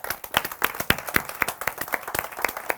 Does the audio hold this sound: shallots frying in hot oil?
no